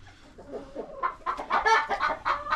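Several Gurk hens cluck in a row in a nest box while eggs are collected, the calls soft and scattered at first, then louder and more insistent as the birds grow agitated, close by with no talk.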